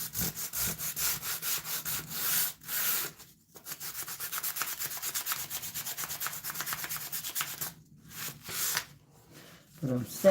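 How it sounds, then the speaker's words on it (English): Hand sanding on the inside of a wooden cabinet door, rapid rhythmic back-and-forth scratchy strokes, close and fairly loud, broken by a few short pauses. "But I'm sanding it as if it was on the outside."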